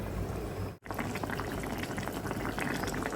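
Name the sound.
hilsa mustard curry with coconut and eggplant boiling covered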